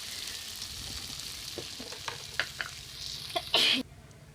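Vegetable bhaji fries in a pan with a steady broadband sizzle, broken by scattered stirring clicks and a louder scrape near the end before the sound drops away.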